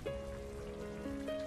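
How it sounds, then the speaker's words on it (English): Rain falling as a sound effect in a narrated horror story, a soft, steady patter and trickle beneath sustained tonal background music, brief and fairly quiet. "Rain! Sweet rain."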